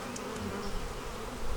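Honey bees swarm around hive frames in a neglected bee yard on a farm, a dense, close, continuous buzzing drone that swells slightly toward the end, with no voices.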